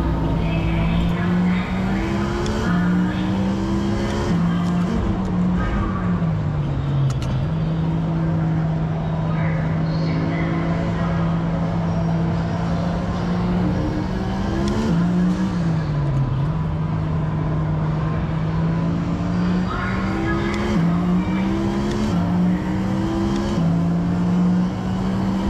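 A Ferrari engine in a racing simulator game drones loudly and continuously, its pitch climbing through the gears in repeated accelerating sweeps with brief dips at each shift.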